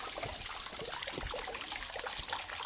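A Sobo WP 2600 DT water pump sends out a strong gush of water, heard as a steady, continuous splashing rush at moderate level, unbroken throughout.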